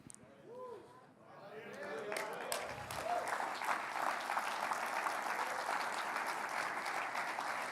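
A church congregation breaks into sustained applause at a worship service, swelling after a brief spoken line into a dense, steady wash of clapping that fills the room and continues to the end.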